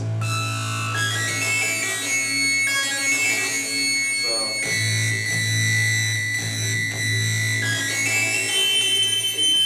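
Harsh, heavily distorted synthesizer lines play continuously with buzzy sustained tones, a brief shift midway, loud and gritty throughout.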